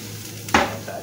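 A utensil stirring beef stock in a pot, one brief scraping swish against the pot over a low kitchen background, close and fairly loud.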